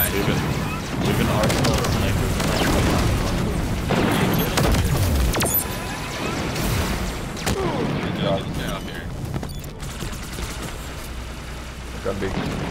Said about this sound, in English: Just keep shooting the guys up top.